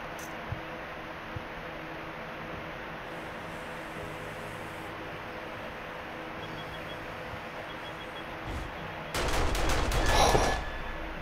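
Automated sentry guns in the survival video game 7 Days to Die open fire in a dense burst of rapid shots near the end, after a long stretch of quiet ambient hum.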